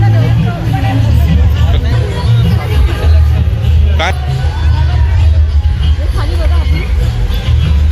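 A dense crowd chatters at the Kokan festival market in Vikhroli, a loud continuous hubbub of many voices close by, with someone speaking over it.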